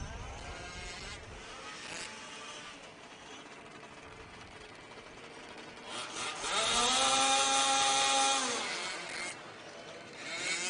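A racing engine at a MOD championship qualifying event idles with a rough, buzzing drone while its idle is adjusted, the revs rising and swelling louder partway through before settling back, with no talk over it.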